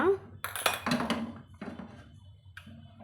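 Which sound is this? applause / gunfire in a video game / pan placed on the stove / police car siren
pan placed on the stove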